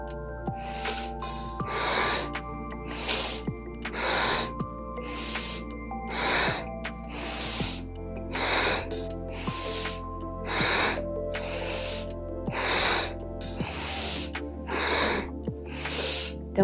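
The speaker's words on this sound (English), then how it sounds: "allow yourself to hear your breath coming into the body and leaving the body." Rapid rhythmic Kundalini yoga breathing, forceful breaths in and out through the nose, about one every second and a half, close and steady over a low sustained tone.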